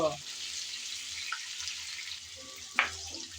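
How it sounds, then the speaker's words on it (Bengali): Radish pieces frying in oil with salt and turmeric, a steady close sizzle with a few soft stirring scrapes and one sharper clink near the end. "নেড়ে চেড়ে আবারও চার পাঁচ মিনিট যাবৎ ভেজে নেব"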